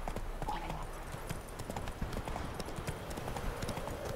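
Horse hooves clip-clop steadily on the ground in The Witcher 3: Wild Hunt, a lame old horse plodding along at a walking rhythm amid continuous game ambience.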